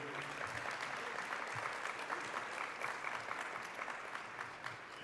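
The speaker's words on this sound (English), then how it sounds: "So a round of applause for our board of directors" Audience applause for a board of directors at a keynote event, a steady dense wash of many hands clapping at an even, moderately loud level throughout.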